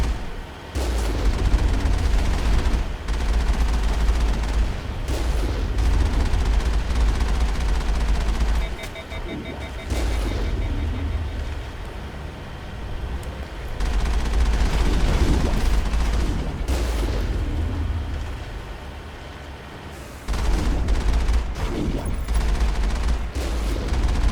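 Gunfire from the video game Mass Effect comes in long, dense, loud bursts of rapid shots with booming low rumble. It breaks off briefly between volleys, and a voice speaks faintly underneath.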